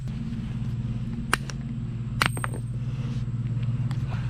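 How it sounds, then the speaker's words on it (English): A mallet strikes a socket to drive a suspension part out of a '94 Chevy Caprice during a control arm and coilover install. Two sharp metallic knocks ring out about a second apart over a steady low hum. "put a socket right there, then take my mallet and then just hit it out"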